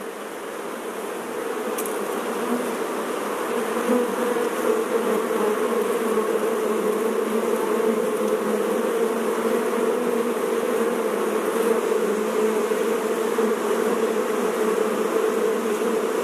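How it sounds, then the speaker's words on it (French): A steady, dense buzzing of many bees in Fribourg hums continuously throughout, fairly close and even in loudness, with no voices. "je suis en train de prendre des sons d'abeilles"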